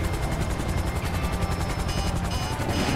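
A damaged, weakened helicopter in the video game GTA 5 roars with a loud, steady, close rotor chop that fills the whole moment without pause.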